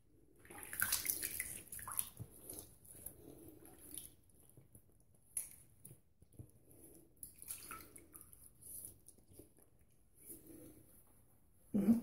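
Tap water running and splashing in intermittent bursts as a face is rinsed after a vintage straight razor shave, close and fairly quiet, with drips and wet handling sounds between splashes.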